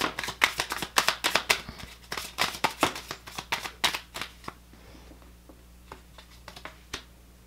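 Tarot cards being shuffled by hand, a rapid run of crisp riffling flicks and taps that is dense and close at first, then thins into sparser, quieter card snaps near the end.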